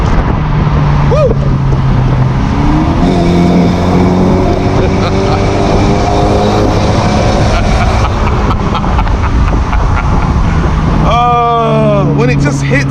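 A BMW 1 Series E88 engine revs up and down on the move. The steady drone rises and falls through the gears, with wind and road noise under it and a brief sharp squeal near the end.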